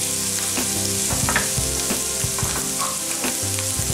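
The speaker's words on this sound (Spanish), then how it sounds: "Añadimos 3 dientes de ajo picaditos. Lo doramos" Three cloves of chopped garlic frying in hot oil, a loud, close, continuous crackling sizzle with intermittent spatter pops and light utensil stirring, no voices.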